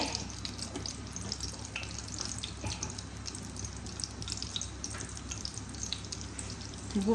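Whole spices fry in hot oil for a malai kofta curry: bay leaf, cumin seeds, cinnamon and cardamom. The sizzle is steady and close, with faint crackles and no voices.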